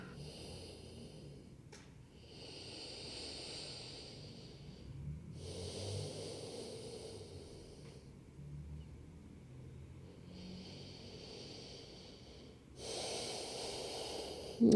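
Slow, quiet breaths during a pregnancy yoga session at 34 weeks, soft airy inhales and exhales recurring every few seconds in a hushed room, with faint low background rumble.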